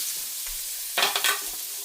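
One chopped red onion goes into drained bacon grease and frying starts, a steady hiss that jumps into a louder, brief burst of sizzling and stirring.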